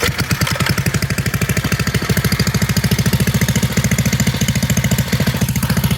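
A pit bike engine fitted with a new carburetor, throttle cable not yet hooked up, runs close by with a fast, even, chugging thump that holds steady throughout, with no talk.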